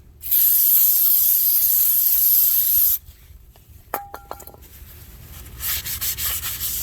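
Brake cleaner sprays in a loud continuous hiss for about three seconds onto the brake assembly of a 2012 Chrysler 300 5.7L. Clicks, metallic taps and a second softer spray burst follow.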